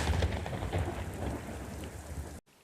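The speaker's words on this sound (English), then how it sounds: "thunder crash" Thunder crash over steady rain from the opening credits of a low-budget film, a loud rumbling roar with dense rainfall that cuts abruptly to silence at the end.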